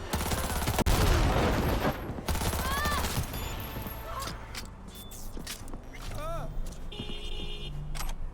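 Grenade explosions and rapid gunfire from the video game Cyberpunk 2077 fill the mix, with loud bursts and shots clustered early and scattered effects later, while a voice talks over the action.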